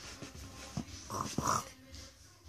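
A child imitates a pig with snorting, grunting sounds, close to the mic, in a few rough bursts.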